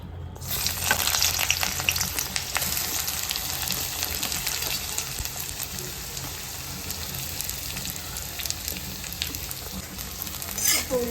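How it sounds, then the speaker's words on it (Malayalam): Chopped onions frying in hot oil, a loud, close, crackling sizzle that holds steady throughout, with occasional stirring scrapes. "നമ്മുടെ എണ്ണ ചൂടായിട്ടുണ്ട്. നമുക്കതിൽ അരിഞ്ഞു വെച്ച ഉള്ളി ഇടാം"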